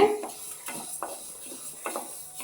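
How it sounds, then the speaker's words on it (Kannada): Flax seeds dry-roasting in a pan, stirred constantly with a spoon that scrapes and rattles the seeds in short bursts over a soft crackle, close and quiet. "ಎಲ್ಲ ಅಗಸೇನು ಚೆನ್ನಾಗಿ ಫ್ರೈ ಆಗಬೇಕು ಹುರಿಬೇಕು ಅದನ್ನು"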